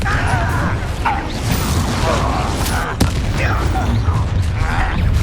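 A Confringo blast spell explodes in Hogwarts Legacy, giving a sharp crack and burst that stands out from a busy layer of magical whooshes, clanks and game ambience.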